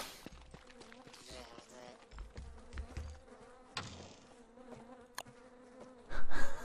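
Bees in the video game Don't Starve Together buzz steadily around the bee area, a busy insect drone with scattered clicks and short game effects and a louder burst near the end.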